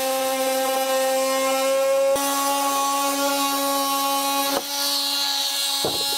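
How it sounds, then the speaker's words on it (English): A rotary tool or jigsaw cuts an opening in a 2022 Forest River travel trailer during installation of a leveling system. It gives a steady, loud, high whine with a tonal hum, briefly interrupted twice and continuing alone without talk. "Now we can take a roto tool or a jigsaw and cut this opening out."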